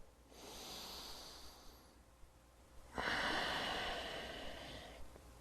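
Deep breaths taken during a seated workout stretch: a long, soft, airy exhale followed by a stronger drawn breath, close and quiet with no talking.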